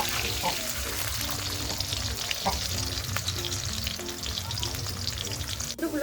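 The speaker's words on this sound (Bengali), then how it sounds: "এখন নাড়িয়ে চাড়িয়ে আলুগুলোকে একটু লালচে কালার করে ভেজে নেব।" Potato pieces fry in oil and get stirred in a pan, a loud constant sizzle with scraping and clinking from the stirring utensil, faint voice underneath.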